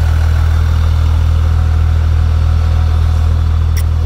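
A 30 horsepower Mercury outboard engine on a 13-foot 1970 Boston Whaler dinghy idles steadily, a loud, constant low rumble with no talk over it.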